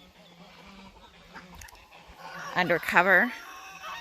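Ducklings from a snowblower batch, some lighter colored, peep and chirp in a cluster that swells louder toward the end, over a low background hum while a person talks nearby.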